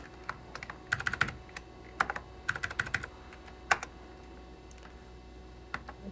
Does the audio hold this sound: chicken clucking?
no